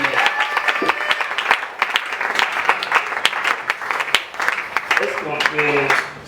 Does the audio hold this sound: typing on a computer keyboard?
no